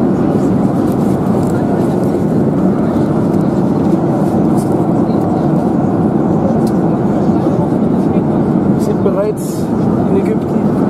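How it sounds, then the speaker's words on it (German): Steady, loud engine drone and rushing cabin noise fill a passenger airplane descending to land on a flight to Egypt, constant throughout, with voices faintly audible beneath. "Wir setzen zur Landung an, es geht runter."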